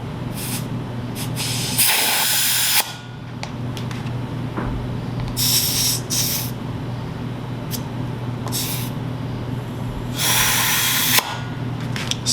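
A trigger-nozzle sprayer fires repeated short, hissing bursts of spray in an irregular rhythm, with a steady low hum running underneath the whole time.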